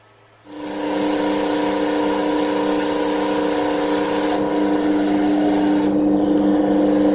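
A universal motor, excited through a rectifier and inverter circuit fed by a 5-volt charger and an excitation capacitor, spins up abruptly and then whirs at a loud, steady pitch. The hum shifts slightly in tone partway through.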